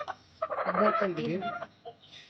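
A hen on a chicken farm clucks repeatedly in soft, quick bursts at close range, fairly quiet, with some voice-like sounds mixed in.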